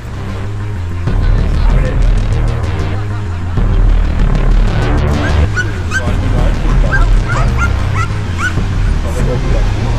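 Trained attack dogs bark and yelp continuously during an attack-dog test, loud and close over low rumbling background noise, with voices mixed in.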